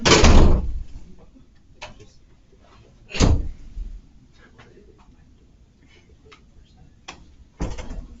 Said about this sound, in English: she's simply going to open the door